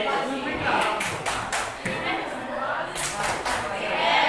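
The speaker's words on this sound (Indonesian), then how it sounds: "Tepuk jempol." A class of students performs a 'tepuk jempol' clapping routine, with several bursts of group clapping at an irregular rhythm over steady classroom chatter.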